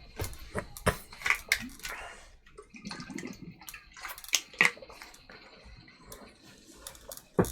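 Water being poured into a pot in irregular splashing bursts, with clinks and taps of cookware, fairly close and moderate in level.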